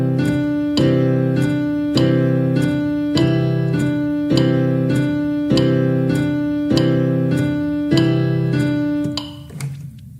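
A piano played with both hands together at a slow 50 beats per minute, sounding evenly spaced struck chords with a bright attack over a sustained low bass, steady and close, with no talking.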